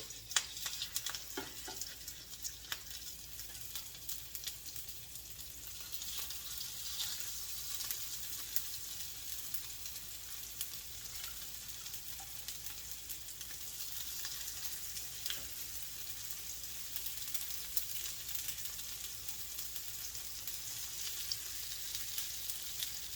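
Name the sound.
potato croquette breakfast patties frying in a pan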